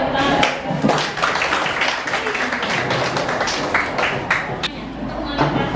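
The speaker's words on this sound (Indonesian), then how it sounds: "Oke, tepuk tangan." Classroom of pupils clapping hands together at a teacher's prompt, a dense patter of many claps filling the room with children's voices mixed in throughout.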